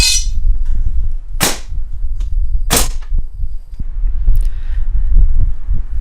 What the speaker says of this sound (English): I'll take my trim gun, put a couple trim nails in that bad boy.